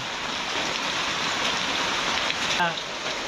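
Steady monsoon rain pours down in the Konkan countryside, a dense continuous hiss close by, with a brief faint knock near the end.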